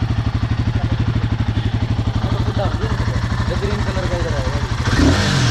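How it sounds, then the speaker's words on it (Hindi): A Royal Enfield Himalayan motorcycle engine thumps in a steady, loud, regular idle-like pulse close by, with people talking over it and a brief louder burst near the end. "ये आप जो हिमालयन की जो साउंड है वो सुनिए"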